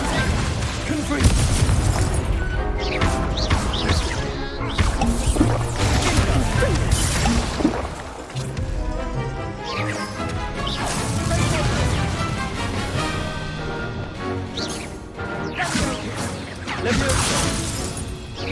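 Confringo spell blasts in Hogwarts Legacy, repeated booming crashes and shattering bursts in quick succession amid loud combat noise, with voices shouting over the chaos.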